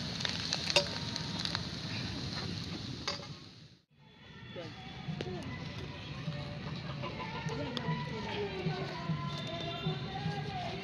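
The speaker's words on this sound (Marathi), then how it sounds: "मस्त बटाटा परतून घेतला." Diced potatoes sautéing in a pan for a potato sabzi sizzle steadily and fairly quietly. A brief lull comes partway through before the frying hiss returns and carries on.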